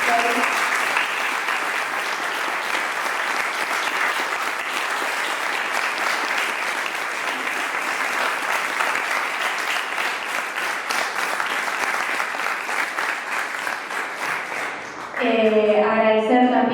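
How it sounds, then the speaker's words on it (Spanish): An audience at an international relations panel on Argentine foreign policy and geopolitics applauds two speakers, a dense sustained roar of clapping lasting many seconds, then a voice begins talking near the end. "me gustaría pedir un fuerte aplauso para los dos grandes expositores"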